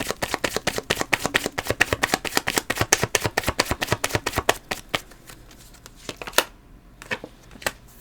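Tarot cards being shuffled in a steady run of quick, crisp riffling flutters for about five seconds, then fading into a few scattered card taps and slides close to the listener, with no talking.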